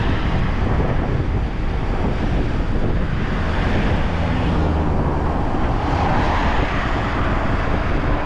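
Strong wind roars and buffets the microphone continuously in Crimea near Yalta, a loud, dense rushing that never lets up, with a faint surf-like wash underneath.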